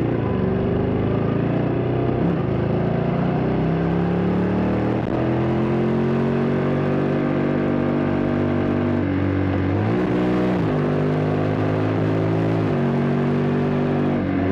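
A Honda X-ADV 750 scooter accelerates in sport mode, its engine note climbing in pitch, dropping at quick gear shifts and rising again in a steady, close drone with no talking.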